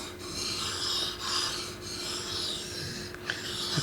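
A custom bushcraft knife drawn back and forth across a waterstone, giving steady, close rasping strokes that swell and fade in a regular rhythm with no voices.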